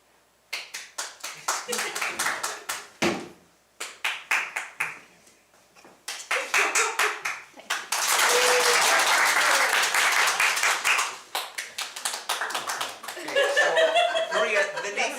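An audience at a comedy improv show votes for a game with several separate rounds of applause, from short sparse clapping to a loud sustained burst, with a voice and some laughter between the rounds.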